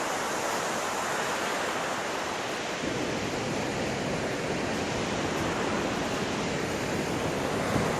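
Hidden Falls in Grand Teton National Park pours down in a loud, steady roar of rushing water, a dense unbroken wash of noise close by with no pauses.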